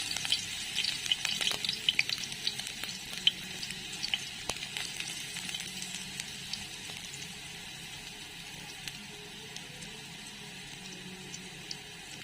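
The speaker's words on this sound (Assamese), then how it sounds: "এতিয়া শাক ভাজিত তেলখিনি গৰম হোৱাৰ লগে লগে প্ৰথমে দি দিম নহৰুখিনি" Garlic goes into hot oil for frying radish greens, giving a faint, steady sizzle with a few small crackles, louder at first and then easing to a quiet even hiss.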